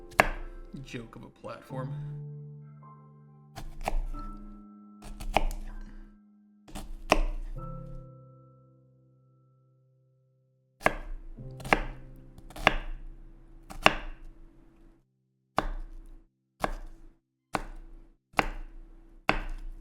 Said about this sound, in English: you don't have to get too fine when you're cutting your onions